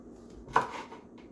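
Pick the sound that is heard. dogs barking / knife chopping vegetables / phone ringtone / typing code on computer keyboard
knife chopping vegetables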